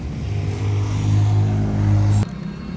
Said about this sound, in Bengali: এই ইঞ্জিনটা হচ্ছে ইয়ানমার হান্ড্রেড ফাইভ